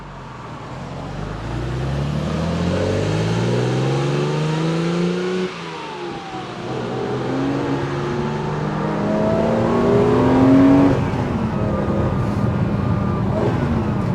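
BMW M1 pulling away and accelerating through the gears, its engine rising in pitch in long sweeps with a brief drop at a shift, heard loud and close from the cabin.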